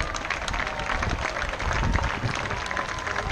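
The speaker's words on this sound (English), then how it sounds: "Let's have another big fat round of applause for the groundskeepers who keep everything looking so beautiful." Crowd applause for the groundskeepers at an outdoor event in Bridlington, a steady dense wash of clapping that swells slightly in the middle and holds for several seconds.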